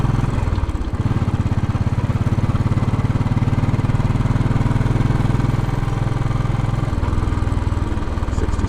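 A Royal Enfield Bullet 500 thumps steadily along Fifth Avenue in New York City, its single-cylinder exhaust pulsing loud and close with a slight change in pitch partway through and faint city noise behind.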